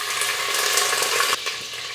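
Chopped onion frying in hot oil in a pressure cooker, a steady close broadband sizzle throughout with a brief dip near the middle.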